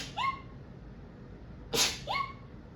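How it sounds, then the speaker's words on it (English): One sharp, close sneeze bursts out loudly partway through, with faint short squeaky whistles just before and after it in an otherwise quiet room. "I might sneeze."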